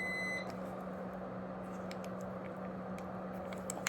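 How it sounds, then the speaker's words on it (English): Home microwave oven gives a short high electronic beep at the start, then a steady low hum carries on underneath with faint clicks and small rustling sounds. "Oh, that's my microwave."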